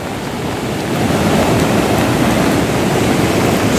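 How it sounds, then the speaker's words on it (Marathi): A flooded river in Konkan rushing during heavy monsoon rain, a dense, steady roar of water that swells slightly after the first second, loud and close with no voices. "नदीला आला पूर"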